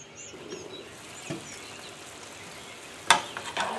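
Pumpkin cooking in a pan over low heat with a pinch of salt, giving a faint, soft sizzle with a few light scrapes and clicks of a utensil, one sharper clatter near the end.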